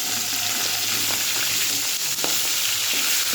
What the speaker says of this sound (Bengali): তেলটা কড়াইয়ে দিয়েছি, মাছও দিয়েছি